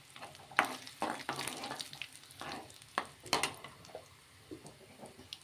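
Tempering (popu) for a spinach-lentil dish sizzles faintly in a pan, with scattered crackles, taps and stirring scrapes at irregular intervals against a quiet background.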